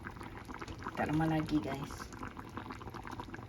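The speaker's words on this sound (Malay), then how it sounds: "Kita biarkan dia mendidih dalam periuk ni." Sour spicy red fish with eggplant simmers in a pot, giving a soft, steady bubbling boil throughout. A voice speaks briefly over it.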